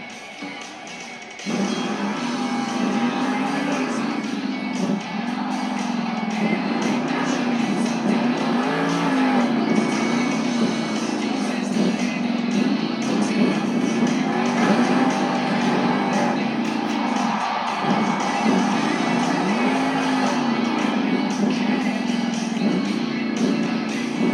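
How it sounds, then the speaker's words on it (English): The Jurassic Attack monster truck makes its run in a Monster Jam arena, a loud, continuous engine roar that rises and falls with revving and throttle changes for over twenty seconds, heard from the stands with crowd noise underneath. "Next up, representing for Team Throttle Monster, this is Tim Hall Jr. in Jurassic Attack."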